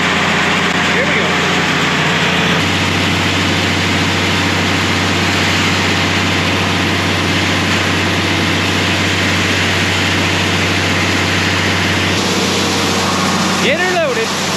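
Tractor with an 8.1 liter engine idling close by, a loud, steady deep rumble that swells into a heavier low drone for most of the stretch before settling back, with a voice briefly audible near the end.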